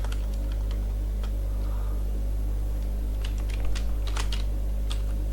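Quick, irregular clicks of typing on a computer keyboard while a program is entered, over a steady low electrical hum.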